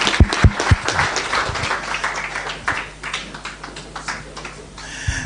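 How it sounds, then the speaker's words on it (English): An audience claps after a speech, with a few sharp claps up close over a dense patter of applause that fades gradually. "Let's give him a round of applause"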